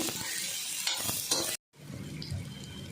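Potato chutney ingredients with tomato sizzle steadily in a pan while being stirred, a close hissing fry with scraping spatula strokes, broken by a brief silent cut before the sizzling resumes.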